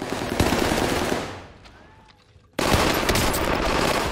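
Rapid automatic gunfire from a shooter video game on the Caldera map: dense, loud volleys that thin out briefly, then burst back in abruptly at full intensity.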